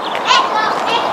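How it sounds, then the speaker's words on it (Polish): Birds chirp and coo outdoors in short bright calls over a soft background of ambient noise. "Ptaszki ćwierkają."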